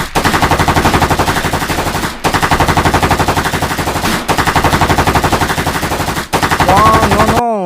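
Sustained rapid-fire gunfire from a mini pistol, loud and continuous in three long bursts separated by brief gaps, with a rising whistling tone near the end.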